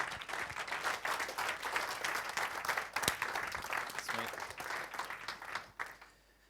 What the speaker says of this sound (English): give Adam Sowden a big round of applause